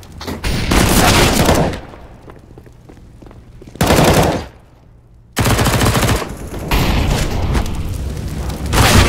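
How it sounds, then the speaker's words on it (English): Flashbang grenade and gunfire in the Counter-Strike video game: loud bursts of rapid automatic fire broken by short gaps, with a sharp blast and quieter stretches between volleys. "I'm throwing a flashbang."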